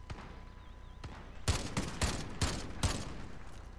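Gunfire in a multiplayer shooter video game: several sharp, evenly spaced shots crack out in quick succession, loud and close, after a quieter stretch of faint background noise.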